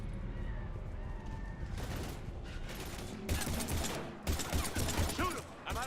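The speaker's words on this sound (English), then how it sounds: "We're taking heavy fire." Gunfire in the video game Mass Effect, a rapid burst of shots and impacts that grows denser and louder in the second half, with the battle noise continuous and close.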